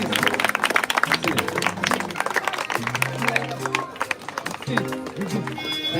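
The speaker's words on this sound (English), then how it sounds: "Big round of applause, please." An audience at a youth football awards ceremony in a Kolkata arena claps in a dense, irregular patter, with a voice speaking over the applause.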